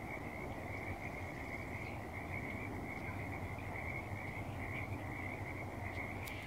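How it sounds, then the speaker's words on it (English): Thousands of frogs croaking at night in ponds and wetlands, a dense, continuous high chorus like trilling crickets, steady and loud throughout with no pauses. "There are so many, like thousands and thousands of frogs. It sounds like crickets, but even louder."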